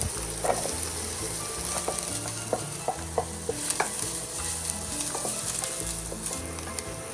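Chopped onion sizzling in hot olive oil in a frying pan, a loud steady crackling hiss with scattered pops and occasional stirring scrapes throughout.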